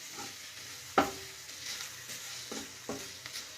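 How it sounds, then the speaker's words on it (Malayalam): Spice masala frying in a pan for Kerala-style chicken cheese balls, a low steady sizzle broken by a sharp scrape of a spoon near the start and a few softer stirring knocks later, no voices. "ഈ മസാല നന്നായിട്ട് മൂത്ത് വരണം."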